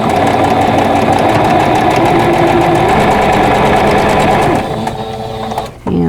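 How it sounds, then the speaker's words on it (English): A sewing machine runs fast and steadily, stitching pieced quilt block fabric for a vintage tulip block. The rapid mechanical whir holds close and loud, then slows and stops near the end. "And then I'm going to sew just to the right side of that intersection."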